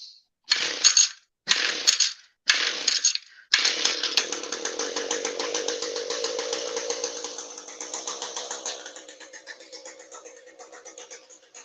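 A petrol hedge trimmer's small two-stroke engine is pulled over with several short starter bursts, then catches and runs at a steady buzzing idle that softens toward the end.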